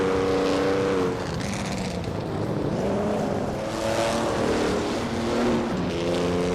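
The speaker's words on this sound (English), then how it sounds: "Maya is driving a 1958 Lotus 16, starting in 5th place." Engine of a 1958 Lotus 16 race car in a racing video game, a steady high-pitched drone that rises and falls as the car accelerates and shifts, loud and continuous with no voices.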